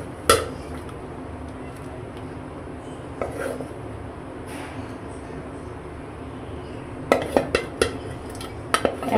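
Eggs go one at a time into a pot of boiling water on a home stove, heard as a few sharp clinks and knocks against the metal over a low bubbling background, with a cluster of quick taps near the end.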